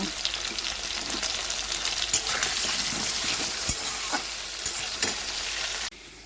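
Potatoes seasoned with salt and turmeric fry in hot oil with a loud, dense, continuous sizzle and scattered stirring scrapes, close up with no voices, before the sound cuts off abruptly near the end.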